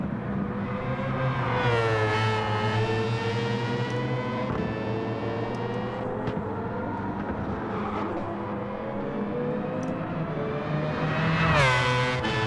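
A race car in Gran Turismo 7 on the Nürburgring Nordschleife howls steadily as its engine pitch rises and falls while shifting back and forth between 3rd and 4th gear, ending with a sharp rev climb.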